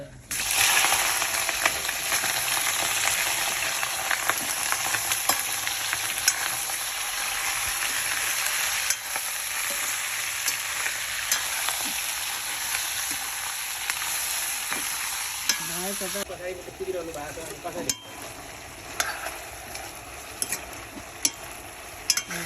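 Chicken meat frying in a pan for a home-cooked curry, a loud, steady sizzle with crackling and spattering throughout, stirring noises near the end and a brief faint voice.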